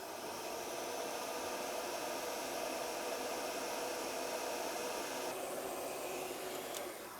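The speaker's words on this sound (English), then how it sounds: "we'll go ahead and use a heat gun or a lighter, whatever you've got, and we'll shrink up all these connectors" A heat gun blows a steady, broadband airy roar while shrinking heat-shrink wire connectors during a license plate and camera relocation bracket install, holding at an even loud level for the whole stretch with no talk.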